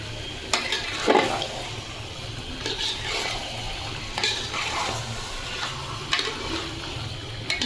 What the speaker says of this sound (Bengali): ভালো করে নাড়াইতে পারতে হবে, বেশি মাংস তো।